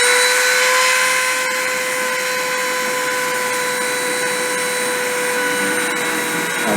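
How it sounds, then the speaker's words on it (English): A deposition machine's spindle whirs loudly at a steady pitch, a continuous high machine whine with sustained tones and broadband hiss throughout, no voices. "I'm going to spin up the spindle and start the deposition."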